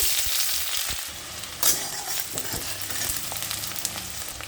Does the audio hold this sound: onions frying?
yes